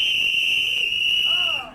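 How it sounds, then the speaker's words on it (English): Families on a cruise ship test plastic safety whistles together, giving one steady, shrill, piercing tone that holds for over a second before fading out. "please blow on the whistles. Test your whistles."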